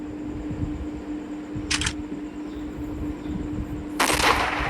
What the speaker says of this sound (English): 2 shots. Sometimes it takes 3 shots.